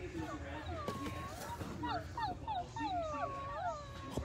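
A toy dog on a store shelf whimpers in a run of high, wavering whines and yips, fairly close, with store noise and voices in the background.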